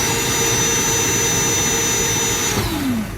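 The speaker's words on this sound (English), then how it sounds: "you're going to hear the wheels gradually move on up" A Power Wheels ride-on toy upgraded from 12 to 24 volts with a soft start gives a loud, steady electric motor whine that holds for a few seconds, then its pitch slides as the speed changes.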